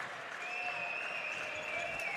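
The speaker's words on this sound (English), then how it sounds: "Valley crowd standing up and clapping" A home crowd at a high school girls' basketball game between Waukee Northwest and WDM Valley stands and claps, a steady roar of applause and cheering filling the gym under a faint whistle-like tone.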